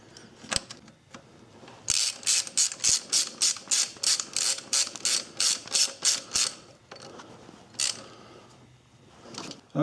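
A hand ratchet snugs a 10mm bolt on the power steering line bracket of a Suzuki Forenza, a close, steady run of about fifteen evenly spaced clicking strokes between a few isolated knocks.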